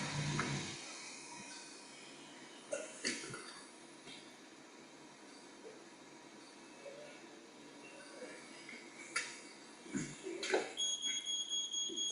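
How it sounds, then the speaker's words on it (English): A ground-floor smoke alarm in a house fire test, with a wicker chair burning, gives high steady beeping bursts over a low crackling, rumbling background, growing more insistent toward the end. "The ground floor smoke alarm activates."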